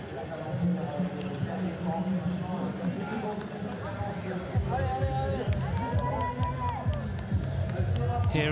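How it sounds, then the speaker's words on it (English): Spectators along a men's elite cyclo-cross World Cup course in Troyes, France, cheer and shout riders on in a steady roar of crowd noise, with a commentator's voice running over it throughout. "Crowd urging these riders on."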